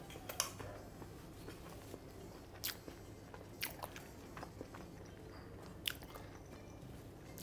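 Someone eats rice cooker chicken cabbage rice, with faint, close chewing and a few soft crunchy bites at irregular intervals, no talking.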